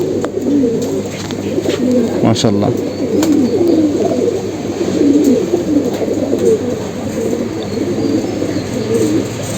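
Army-breed pigeons coo steadily in a low, rolling murmur throughout, close and continuous, while someone speaks briefly over them.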